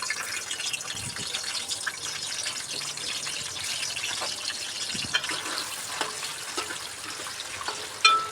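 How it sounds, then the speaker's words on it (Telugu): Eggs frying in hot oil for a spicy tomato egg curry, giving a steady, close, dense sizzling hiss throughout, with a brief sharper pop near the end and no talking. "ఆయిల్ అయితే ఫ్రై అయిపోయింది ఇప్పుడు ఎగ్స్ అయితే మనం ఫ్రై చేసేద్దాము"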